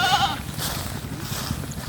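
A goat bleats close by, a short wavering call near the start, with low rumbling background noise continuing under it.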